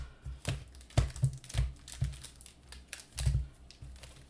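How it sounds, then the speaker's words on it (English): One Piece trading cards from the OP03 Pillars of Strength set are shuffled by hand, making a series of quick close riffling taps and flicks in short irregular bursts with brief pauses between them. "we're going to shuffle these up a bit because that's what we do"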